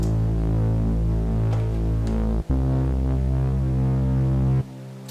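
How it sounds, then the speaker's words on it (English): A thick, buzzing distorted saw bass synth holds sustained low notes, with a brief break midway before continuing steadily. "this is a distortion kind of bass. It's a saw bass."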